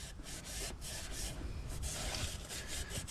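A Duramax engine block deck is rubbed and scuffed clean after scraping during a head gasket job, giving a continuous, close abrasive scrubbing with short rhythmic breaks and no talk.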